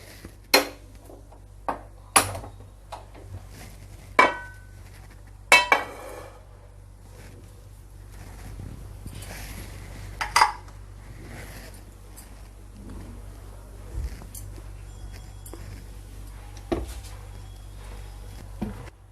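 A metal pan set down on a stove in a home kitchen before prawns are fried, with a few sharp clanks and clinks scattered over near-silence.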